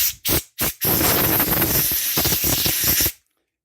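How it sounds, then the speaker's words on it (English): Compressed air blows dust off the battery of a 2019 RAM 1500 key fob: three short hissing puffs, then one sustained loud blast lasting about two seconds before cutting off to silence. "use compressed air and blow the dust off"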